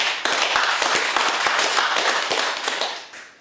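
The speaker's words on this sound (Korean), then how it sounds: "박수 한번 좀 치겠습니다." An audience at a Korean talk applauds on cue: dense, irregular hand claps crackle together at a steady level, then thin out and fade toward the end.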